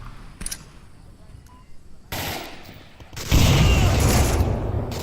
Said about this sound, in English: Here comes the nade onto Sickness.